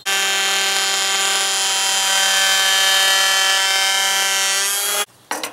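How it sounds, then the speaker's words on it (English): A planer shaves wood for a tactical walking stick, a loud sustained high-pitched machine whine with rich harmonics lasting about five seconds before cutting off abruptly, followed by brief clatter, close by with no talking. "you either want to change your depth to a shallower depth on your planer, or you want to slow your push down"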